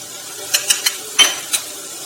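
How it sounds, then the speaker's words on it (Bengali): A utensil stirring cumin and spices in a cooking pan for a Bengali fish curry, with about five sharp scraping clinks spaced irregularly over a faint, steady background sizzle; no speech. "এবার একটু নাড়িয়ে চাড়িয়ে নিই, ভালো করে একটু নাড়িয়ে নিই।"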